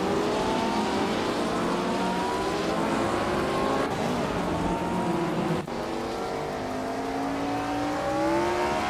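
A 1965 Lotus 33 and other classic racing cars scream through a racing video game, engines holding a steady high-pitched whine with shifting pitch as cars jostle, loud and continuous without talk.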